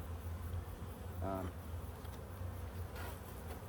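Honey bees buzz around a busy, somewhat aggressive beehive, a faint continuous hum with a brief vocal-like murmur partway through.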